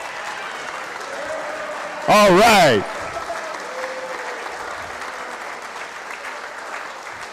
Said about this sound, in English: Stand up and give him a round of applause